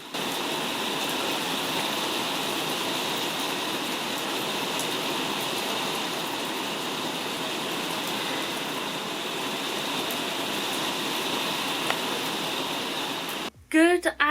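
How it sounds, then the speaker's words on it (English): Heavy rain pours in a steady, dense hiss for many seconds, with a brief burst of other noise right at the end. "That rain though."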